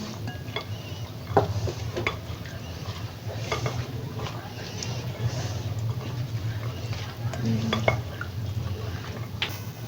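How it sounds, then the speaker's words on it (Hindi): Chana chaat ingredients and boiled potato are stirred together in a bowl, with soft clinks and scrapes of a spoon against the dish and wet squelching from the mixture, close and fairly quiet. "अब हम अपने मटेरियल को मिक्सअप करते हैं।"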